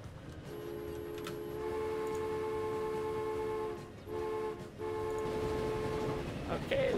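In the railway game Transport Fever, a train whistle sounds as a sustained multi-tone blast, pausing briefly and then resuming, heard over rumbling train noise at moderate loudness with no talking.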